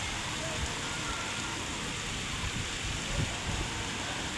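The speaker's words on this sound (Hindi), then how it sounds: "ये देखो कैसी बारिश आ रही" Heavy rain pouring down during a storm, a dense steady hiss of falling water with a few low thumps and splashes, close and continuous throughout.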